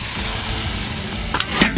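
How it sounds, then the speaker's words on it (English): Beef pot roast sizzles loudly and steadily on a charcoal grill over hot coals, with a few sharper crackles and pops near the end. "Hear that sizzle? You know you're in business."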